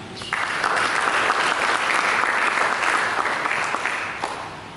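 A church congregation bursts into sustained applause during a Sunday sermon, dense steady clapping filling the room for nearly five seconds before tapering slightly at the end.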